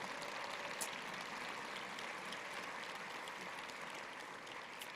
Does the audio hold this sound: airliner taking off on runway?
no